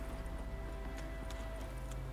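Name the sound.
hooves of the invisible horse Roach in The Witcher 3 video game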